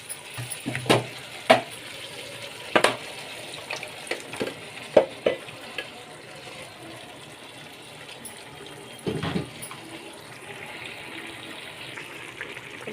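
Cooked cabbage is tipped into a pan of simmering gravy for a dum cabbage and potato bhaji, giving intermittent close plops, wet splashes and scraping stirs over a soft bubbling sizzle. No one speaks.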